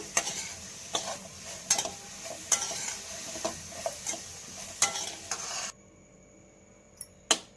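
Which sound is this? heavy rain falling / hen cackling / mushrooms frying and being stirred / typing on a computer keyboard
mushrooms frying and being stirred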